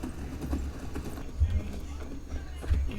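A horse's hooves clip-clop in the video game Skyrim, a few soft, spaced, low thuds on the ground against a quiet ambient backdrop.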